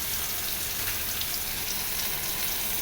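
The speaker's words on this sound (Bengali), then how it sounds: "এবার এই তো গরম তেলে চেপা শুটকি দিয়ে দিলাম" Chepa shutki, fermented dried fish, frying in hot oil, a steady, close sizzle that crackles evenly without pause.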